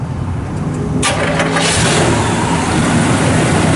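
A 1972 Oldsmobile Cutlass 442 with its original 350 four-barrel V8 cranks and fires up about a second in, then settles into a loud, steady idle rumble.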